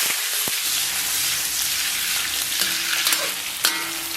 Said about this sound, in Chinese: 咱们把五花啊炒至微焦变色，然后把准备好的葱姜丝给它下到锅中，继续简单给它煸炒一下。